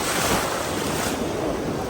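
Steady roar of Pacific Ocean surf breaking continuously, with wind buffeting the microphone throughout and no voices.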